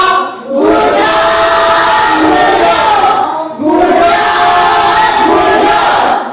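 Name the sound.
audience applause for a student group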